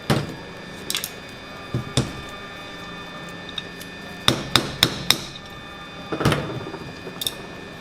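A hammer taps a 1/4 inch roll punch against a 1911 frame during disassembly, giving sharp metallic clinks, single strikes at first, then a quick cluster of several taps, close and clear.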